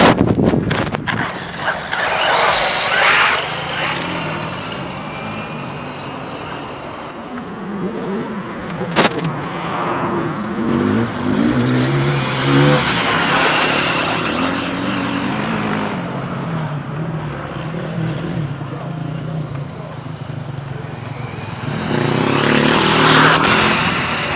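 A WLtoys 184016 RC car with its shell lowered runs at high speed, a loud buzzing whine that rises and falls as it passes close by and pulls away, then surges again near the end.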